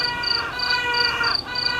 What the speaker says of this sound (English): Okay, that's too many crickets.